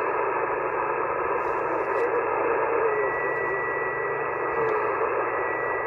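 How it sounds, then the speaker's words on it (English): Continuous hiss and crackling static from a ham radio tuned to a busy HF band, with a steady hum underneath and faint bursts of overlapping signals throughout. "We got some unbelievable signals and conditions today."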